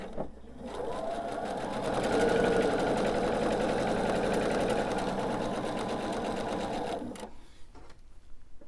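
A sewing machine backstitches diamond quilt pieces at the quilt's edge, a steady close mechanical whir with rapid needle ticking that starts abruptly, runs continuously for several seconds and then stops sharply.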